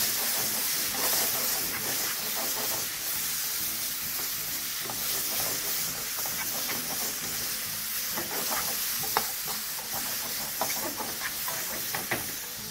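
Soy lamb stew ingredients sizzle and hiss in a hot pan as stock is added and they are stirred continuously, steady frying crackle with scattered scraping stir sounds, close and without talking.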